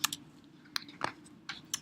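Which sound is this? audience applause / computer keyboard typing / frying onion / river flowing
computer keyboard typing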